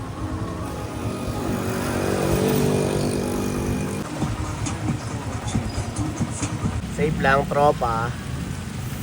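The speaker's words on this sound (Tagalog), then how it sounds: "inabutan na naman tayo ng ulan" Rain hisses steadily throughout, heavier at first, while a passing engine rumbles and a person speaks briefly near the end.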